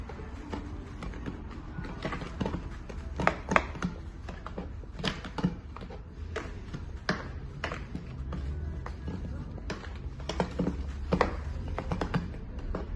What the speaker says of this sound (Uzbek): endi buni chuqurroq tog'oraga solamiz. Yana aralashtirib olamiz.